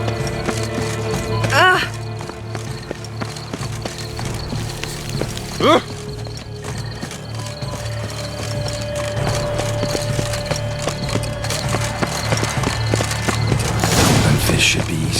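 Horse hooves clip-clop steadily in The Witcher III: Wild Hunt, a continuous rhythmic beat under a voice, with faint whinnies and brief mechanical rattles.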